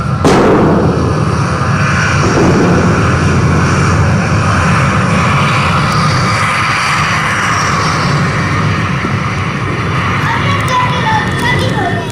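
A propeller airplane flies over Amritsar with a loud, sustained engine drone that fills the whole passage, while a voice speaks alongside and a few sharp bangs are heard early on.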